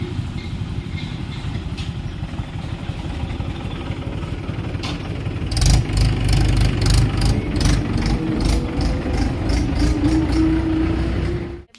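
A tractor engine idles with a low, rough rumble, then grows louder and throatier about halfway through as it revs or draws closer, running steadily to the end.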